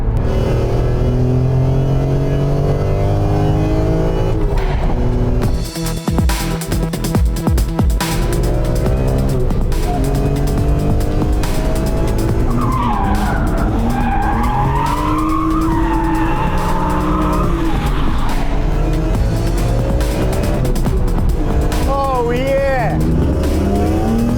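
A BMW M3 E46 with a manual gearbox being driven hard, its engine revving loud and close through gear changes, with tyres squealing in skids partway through and someone talking over the drive.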